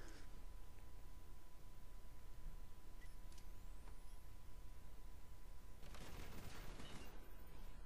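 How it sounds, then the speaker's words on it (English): Rapid-fire automatic gunfire in the video game Modern Warfare 3, a dense continuous barrage of shots running steadily throughout at moderate level with no talk. "is every gun supposed to have rapid fire on like Modern Warfare 3?"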